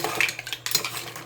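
Mussels being stirred in a boiling pot, a utensil scraping and clinking against the metal sides in a few quick, close strokes, with no one talking.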